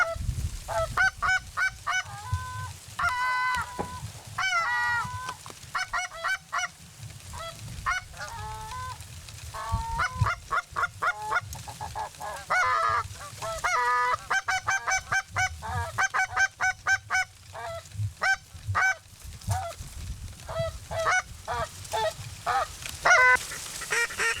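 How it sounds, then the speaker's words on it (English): Geese honking repeatedly in loud, rhythmic bursts close by during a duck hunt on the water, with occasional brief gaps and a low background rumble throughout. "That's a goose."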